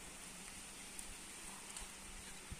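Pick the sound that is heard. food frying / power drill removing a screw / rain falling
rain falling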